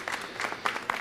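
Brief burst of audience applause at a city council meeting, a short wash of clapping with a couple of sharper claps near the end, moderately loud and without talk.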